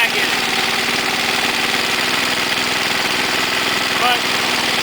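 An MTD Panzer engine runs steadily just after a cold start, its first start of the season, giving a loud, continuous drone with a dense, even throb and no pauses.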